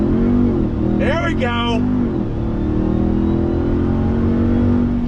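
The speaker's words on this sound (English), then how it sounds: "let's go ahead and do an acceleration from a dead stop here since nobody is behind us" A 2021 Ram TRX pickup pulls away hard from a dead stop, its engine a loud, steady drone that builds throughout, with a brief spoken remark near the start.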